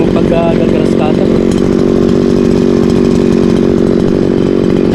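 A grass cutter engine runs loud and steady in a rice field, a continuous buzzing drone throughout, with talk faintly mixed in.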